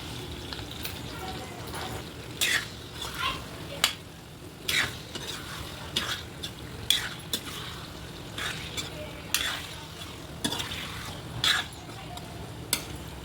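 Chicken frying with ginger-garlic paste in a pan, a steady close sizzle broken by repeated scraping stirs of a utensil against the pan at an uneven rhythm.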